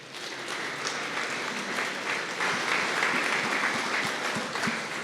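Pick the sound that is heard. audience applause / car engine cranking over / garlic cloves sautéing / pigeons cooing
audience applause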